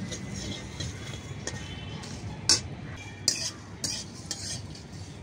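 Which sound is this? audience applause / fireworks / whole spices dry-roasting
whole spices dry-roasting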